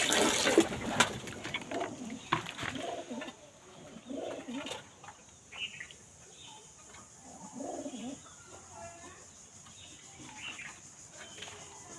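Pigeons cooing in soft repeated throaty calls at moderate distance, with faint splashes of bathing water in the background.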